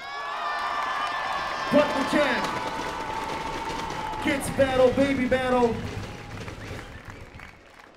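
A crowd at a kids' breakdance battle event in Chelles claps and cheers with whoops for a young dancer, loud and close, while an MC talks over the noise and the excitement peaks in bursts before fading.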